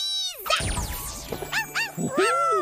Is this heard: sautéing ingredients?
no